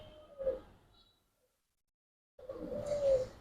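A low coo from Giribaz racing pigeons in a loft sounds close, then silence for over a second before another longer, throaty cooing call rises and fades.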